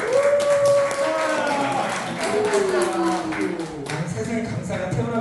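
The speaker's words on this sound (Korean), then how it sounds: "수고하신 총각 교수님 박수 한번 인사해 주세요" A lecture audience at a laughter-therapy session applauds a professor with brisk, continuous clapping while a speaker keeps talking loudly over the claps.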